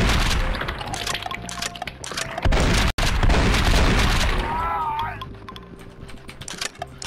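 Gunshots in the video game Blood and Bacon, several loud booming blasts in quick succession mixed with wet splattering and clatter, followed by quieter scattered sounds.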